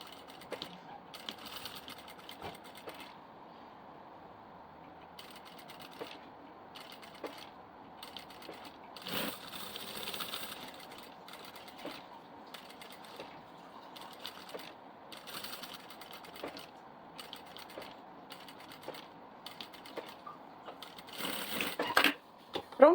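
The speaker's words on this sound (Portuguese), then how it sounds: "essa costura vai ser feita bem devagarinho para você conseguir ter controle de costurar bem em cima da sua marcação" A sewing machine slowly stitches a diaper bag along a marked line, running in short, quiet bursts with pauses between them and a faint mechanical whir.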